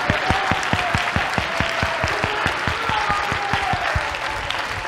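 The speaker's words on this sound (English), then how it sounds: "Oh, come on, clap your hands unto the Lord." A church congregation claps hands in a steady, even rhythm during worship, loud and close, with a dense crowd wash underneath and no speech over it.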